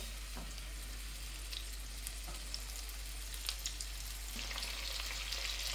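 Tomatoes fry in a pan with a steady broadband sizzle throughout, small crackles and pops scattered on top, growing slightly louder toward the end; no voices.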